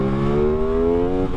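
An Aprilia Tuono 660 motorcycle accelerating, its engine note climbing steadily in pitch as it pulls through the revs, loud and close throughout with a slight dip near the end and no talking.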